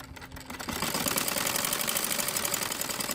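A sewing machine stitches lace onto the edge of a dupatta. After a brief quieter start, it settles into a steady, rapid mechanical hum with fine rhythmic ticking, close by and continuous.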